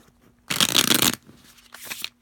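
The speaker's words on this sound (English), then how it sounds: "I'm going to shuffle it. But you do a bad shuffle where you keep it at the top." A deck of playing cards is shuffled in one quick riffle burst, a dense papery flutter lasting under a second, followed by softer, shorter card handling.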